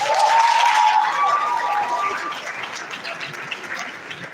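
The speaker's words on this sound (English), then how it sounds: "Please, we can do better with the applause." Loud crowd applause with some cheering at a veterinary oath-taking and induction ceremony, dense clapping that starts strong and gradually tapers, with a faint whistle or shout rising briefly early on.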